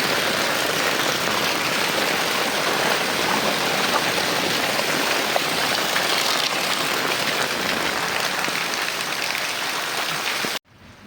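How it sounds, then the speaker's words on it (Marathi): Heavy rain falls on a village after a month without any, a loud, dense, unbroken hiss and patter close by that cuts off abruptly at the end, with no voices. "आमना गावमा 1 महिना नंतर पाणी पडना"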